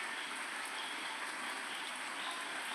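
Rain falls steadily outdoors as a continuous, even hiss that holds at the same level throughout, with no voices.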